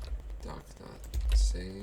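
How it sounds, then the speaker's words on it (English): Brief run of keystrokes on a computer keyboard, close and clicky, with a person talking over it. "We're going to type that."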